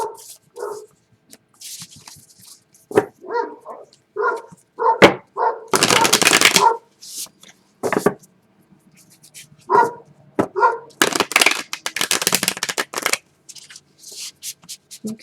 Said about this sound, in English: I apologize if you can hear them barking in the background